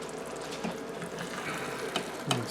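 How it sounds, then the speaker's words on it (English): Food bubbling in a pot on a switched-off but still hot burner, a faint, continuous simmer with a few soft pops. "It's still bubbling because the burner is still hot."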